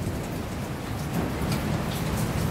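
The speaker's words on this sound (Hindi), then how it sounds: "यहाँ सुबह से बारिश दे रहा है ईटानगर में" Steady rain falls in Itanagar, Arunachal Pradesh, a constant dense hiss of drops on surfaces with no voices, moderately loud throughout.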